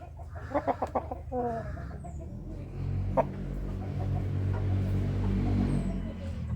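Large roosters cluck in a quick burst of short calls, then one crows with a long drawn-out call, fairly close, over a low steady background hum.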